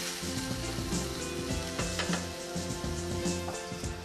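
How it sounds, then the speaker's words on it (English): Meat browning with spices in a hot pan, a soft sizzle running under a tonal music bed, fairly quiet and steady. "I can really smell those spices toasting in the pan."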